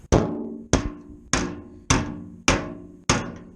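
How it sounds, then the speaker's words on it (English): Six sharp metallic hammer-and-dolly strikes on a classic Mini door panel, evenly spaced about half a second apart, each ringing briefly before the next blow. "From a hammer and dolly set, nice fine edge that just fits perfectly in there."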